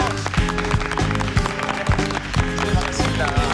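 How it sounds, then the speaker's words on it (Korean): Studio audience applause welcoming a university business professor onto a televised lecture stage, a steady wash of clapping with music and rhythmic accents running underneath for a few seconds. "박수로 환영해 주세요"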